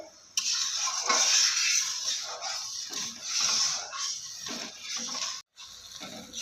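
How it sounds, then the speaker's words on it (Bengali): Steady bubbling hiss of sugar syrup boiling in a pan, continuous and close, with a brief drop near the end. "রসটা আমার খুব সুন্দরভাবে ফুটছে"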